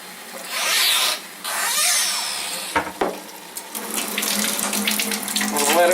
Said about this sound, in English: And we'll let it run just a minute since it's the very first water that came through the machine.